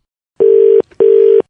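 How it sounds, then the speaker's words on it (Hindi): Two long, even telephone ringback beeps of a call being connected on a radio prank show, each about 0.4 seconds, separated by a short gap; loud and close, with no talk over them. "फोन लग गया"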